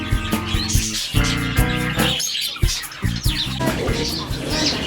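Caged birds in a pet store chirp and tweet in quick bursts, with scratchy rustling and clinking of wire cages close by, over busy indoor background noise.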